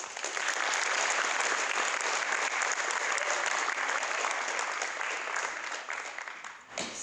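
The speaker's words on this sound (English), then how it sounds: "Give yourself yet another round of applause." Audience at a student drama conference applauding, a dense, steady wash of many hands clapping for several seconds before thinning out at the end.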